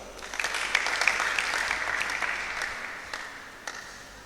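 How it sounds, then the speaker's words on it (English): A room full of people at a debate tournament applauding steadily, dense clapping that swells briefly and then gradually tapers off. "Please give him a round of applause."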